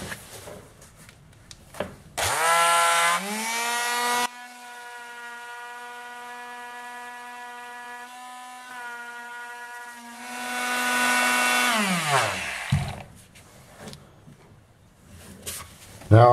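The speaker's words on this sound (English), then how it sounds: "I'm just going to use my palm sander and I'm just going to sand off the raised area" A palm sander whines up, runs with a steady buzzing drone for about ten seconds sanding a compact disc, then spins down; faint clatter before and after.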